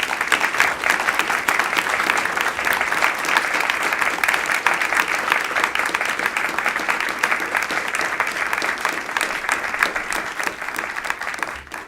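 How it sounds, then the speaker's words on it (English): A live audience applauds panelists at the close of a public science discussion on water in the solar system, with steady, dense clapping that stays loud and even for the full length, with no voices over it. "Ladies and gentlemen, please give a round of applause to our panelists today."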